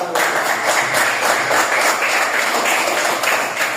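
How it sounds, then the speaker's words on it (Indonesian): Classroom applause for a student group, a steady dense patter of many hands clapping close by for several seconds without pause. "Beri tepuk tangan untuk kelompok 1."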